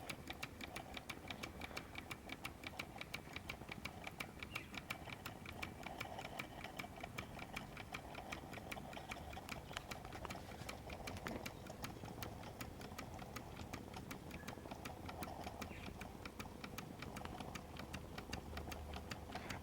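A Mamod SP6 model steam engine runs with a fast, even mechanical ticking and chuffing that repeats rapidly and steadily, heard quietly and close with no voices.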